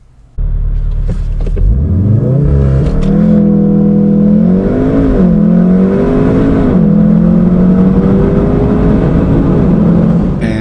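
A stage 2 Unitronic-tuned VW MK7.5 Golf R with a DSG gearbox launching hard under launch control, its engine roaring loud and close as revs climb through quick successive gear shifts.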